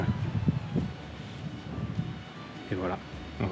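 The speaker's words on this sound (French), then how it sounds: "Il y a un peu de vent là" Wind blowing across the open Route 40 in Patagonia, a steady gusting rush with microphone buffeting, while someone talks over it.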